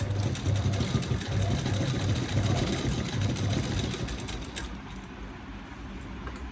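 A sewing machine double-stitches a blouse seam with a steady, close mechanical whirr that eases off toward the end.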